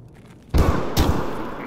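Gunfire in Escape from Tarkov strikes the player: two sharp, loud bursts of shots, the first abrupt and booming, the second a moment later, with a lingering rumble after and no talk.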